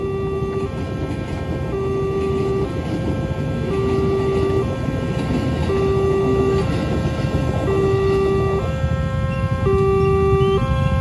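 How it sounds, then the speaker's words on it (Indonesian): Loud rumbling of a JR 205 series electric commuter train passing close by a level crossing at Cisauk, South Tangerang, Indonesia, while the crossing warning bell rings in a steady alternating pattern throughout. "yang melintas adalah KRL seri JR25. Biasa ya, livery lama. Melintas di JPL 95 Cisauk Tangerang Selatan ini"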